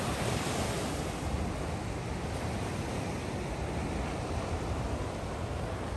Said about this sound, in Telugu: విండ్ ఎక్కువ ఉంది ఈరోజు కూడా.